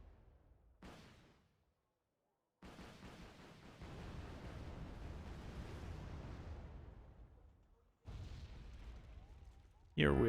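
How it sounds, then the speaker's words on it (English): A string of airstrike explosions in the Wargame Red Dragon strategy game, heavy rumbling blasts filling long stretches with a brief silent gap, then a final loud burst at the end. "Did an airstrike here."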